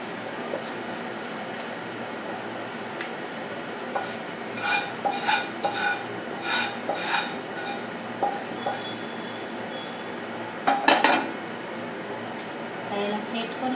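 Thickened sattu chikki batter is scraped out of a pan: clusters of metallic scraping and clanking from a spatula against the pan rise over a steady low background hum, with a sharper burst of clatter near the end.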